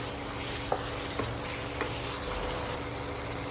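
Lime and dates pickle cooks in a pan with a continuous soft sizzle, a few light stirring knocks breaking through the steady frying hiss.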